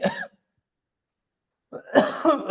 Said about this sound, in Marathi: आता काय तुम्हाला खोकल्याचा आवाज येतोय माझा, काय करावं आता?